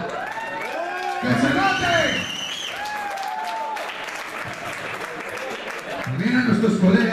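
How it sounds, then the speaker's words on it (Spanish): A metal festival crowd claps and cheers in bursts while someone shouts excitedly over the noise from the stage. "¡Un aplauso a Hondar!"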